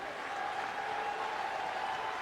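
A lively, noisy crowd at Yankee Stadium during a night baseball game between the Yankees and Red Sox, heard as a faint, distant, continuous murmur and cheer with no single voice standing out.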